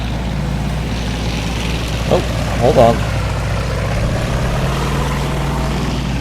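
Tank engine in the game World of Tanks, a steady low droning rumble running throughout while someone talks briefly over it.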